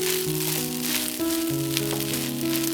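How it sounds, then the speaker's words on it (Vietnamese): Fried rice with dried anchovies and pickled greens sizzles steadily in a pan as it is stirred and pressed flat, a close, even frying hiss under a background of musical tones, with no talking. "cứ dùng thìa vừa đảo vừa ấn dẹt ra như vậy để cho các hạt cơm nhanh tơi rời và khô ráo hơn"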